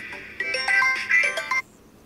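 A mobile phone rings with a bright electronic melody of repeated tones, loud and close for about a second, then stops abruptly, with no talk over it.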